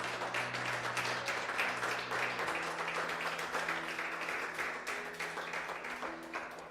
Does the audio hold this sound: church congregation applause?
yes